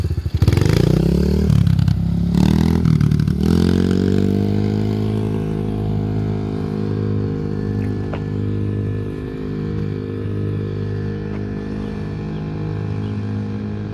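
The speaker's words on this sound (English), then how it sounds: "heading down to the cul-de-sac on his dirt bike" Dirt bike pulls away and rides off toward a cul-de-sac: a few revving bursts at the start, then a steady droning engine note that holds at moderate loudness and slowly eases as the bike moves away.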